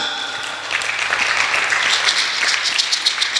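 A church congregation applauding during a service, a dense wash of many clapping hands that swells and holds steady, with faint voices underneath.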